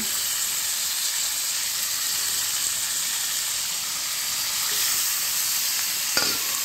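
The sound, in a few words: chicken frying and being stirred in a pan for curry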